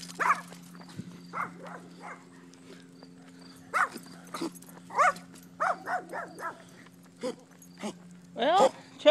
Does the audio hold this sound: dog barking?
yes